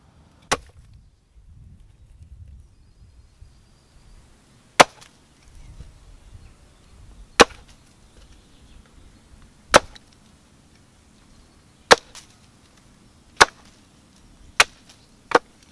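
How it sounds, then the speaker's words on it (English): An axe or blade chops a straight wooden hedge-laying stake of hazel or ash to a point, landing seven or eight sharp, loud blows spaced a couple of seconds apart over a low outdoor rumble. "the idea is to try and sharpen it with a minimum number of blows"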